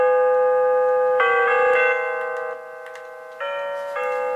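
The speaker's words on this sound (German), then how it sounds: "Da Ding hat auch noch einen eingebauten Gong." A digital wall and table clock plays its built-in gong chime: a clear, loud electronic melody of sustained bell-like tones changing pitch in several steps, heard alone without talk.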